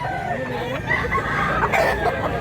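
Clucking and short crowing from roosters at a rural chicken market selling street comb round-head fowl, several birds overlapping amid a busy, noisy background.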